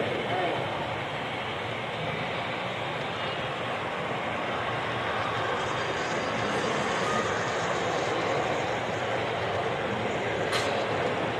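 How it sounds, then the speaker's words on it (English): A steady rumbling G scale model CSX and BNSF freight train running continuously at a train show, a dense roar with some rattling, loud and close, with voices faintly mixed in. "That's a huge train here."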